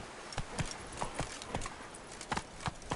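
Roach, the horse in The Witcher 3, trots along with a brisk, regular clip-clop of hooves, close and clear, with no talking.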